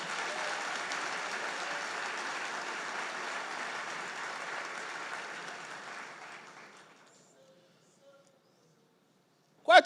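A church congregation applauds the Lord during a sermon, a broad steady wash of clapping that fades out over several seconds into near silence, followed by a brief faint sound at the very end.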